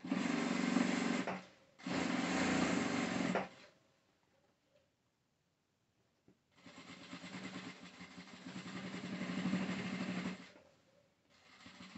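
A sewing machine stitches a short reinforcement seam on a patchwork fabric bag in two runs: a steady whirring burst of about three seconds with a brief pause, then quiet, then a longer run of several seconds, close and clear.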